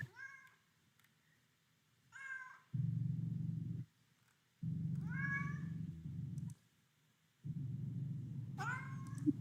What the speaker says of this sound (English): And I've got a cat.